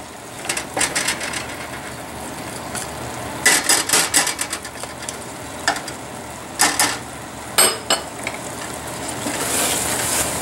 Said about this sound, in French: Avec un pilon à pommes de terre, là, je vais les écraser.